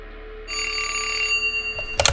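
A telephone bell rings loudly in one long burst, followed by a brief clatter, with no voices.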